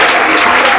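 Dense, loud applause from a French-speaking audience honoring International Women's Day on March 8, a steady wash of clapping filling the short moment with no voices above it.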